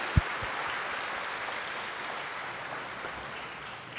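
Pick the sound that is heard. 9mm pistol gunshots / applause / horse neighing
applause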